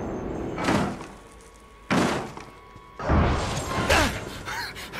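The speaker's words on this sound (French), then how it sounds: "faut attendre qu'il défonce la porte, cet enculé." In the horror video game Outlast 2, a door is being broken down, and three heavy slamming impacts land a second or so apart, booming and reverberant over a low ambient hum.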